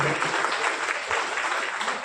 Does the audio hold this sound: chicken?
no